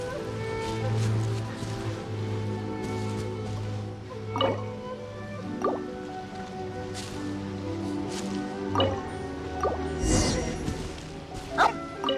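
Dogs on a beach in the video game Genshin Impact bark and yip in short bursts over a continuous low ambient hum and faint waves.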